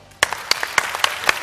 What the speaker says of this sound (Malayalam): അതിനാണ് എന്റെ ആദ്യത്തെ കയ്യടി.